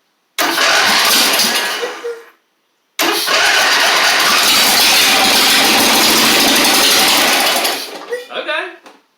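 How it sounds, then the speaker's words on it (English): A Husqvarna LGT2654 lawn tractor engine cranks and fires in two loud, close bursts, a short one and then a longer run of about five seconds that catches and revs before cutting off. "Let's see if we got 2 cylinders running. If it'll fire."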